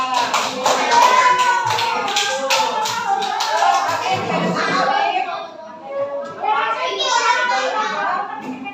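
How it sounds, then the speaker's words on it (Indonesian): A classroom of children claps in a burst of scattered applause, with kids' voices chattering over and after it. "kasih tepuk tangan dulu buat Rasya"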